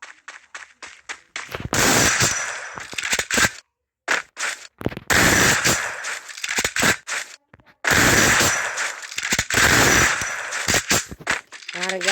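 M87 shotgun blasts in the Free Fire mobile game, loud sharp bursts fired in quick rhythmic clusters separated by brief silences, close and punchy, with in-game effects between volleys.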